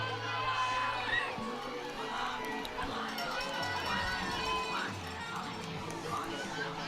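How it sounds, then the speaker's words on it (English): Fans line the fence at a cross country race for Division III boys, cheering and shouting in a continuous crowd roar with scattered whoops, runners passing, and an announcer talking over it. "all the different fans that are cheering along the fence line"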